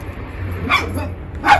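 Two short dog barks, spaced about a second apart, come from a dog nearby inside a greenhouse, standing out over a low steady background hum.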